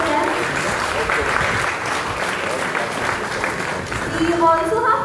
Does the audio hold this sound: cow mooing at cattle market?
no